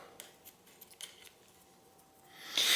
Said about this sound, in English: I'll cut a little bit more off there like this.